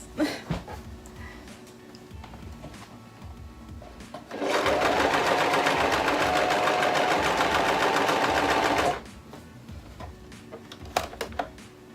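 A domestic sewing machine stitches jersey fabric in one steady, loud run of about four seconds, its fast even motor whir starting and stopping abruptly between quiet handling noises.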